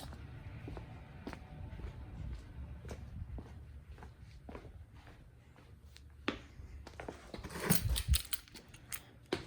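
Keys for a Lexus LS430 jingle and click in short metallic bursts, quiet and close at first, growing into a louder rattling jangle near the end.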